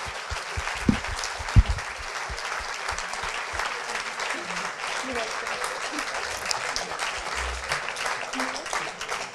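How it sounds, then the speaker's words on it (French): A lecture audience applauds after a talk on growth and prosperity, a dense, steady wash of clapping from a large crowd with a couple of sharper claps near the start, sustained throughout. "On peut les applaudir une dernière fois."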